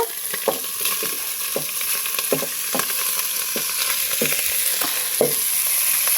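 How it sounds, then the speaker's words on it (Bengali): Ginger and garlic frying in oil for a village-style biryani, a close continuous sizzle with rhythmic scraping strokes of a spatula stirring the pan, no voices. "আদা রসুন দিয়ে দেওয়ার পর এখন আমরা এটাকে ভেজে নিচ্ছি"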